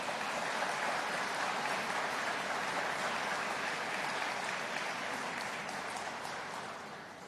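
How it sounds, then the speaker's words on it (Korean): Audience applause at a vision proclamation ceremony held in a disused factory in Busan, broad steady clapping from a large crowd that holds evenly and then fades slightly toward the end, with no speech over it. "우리 또 큰 박수 부탁드립니다"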